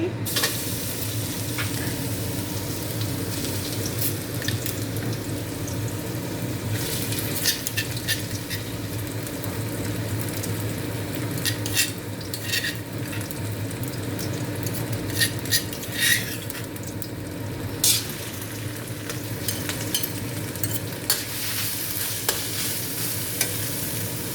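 Pounded chili paste sizzles and fries in oil in a wok, with a spatula scraping and stirring against the metal in busy, continuous bursts.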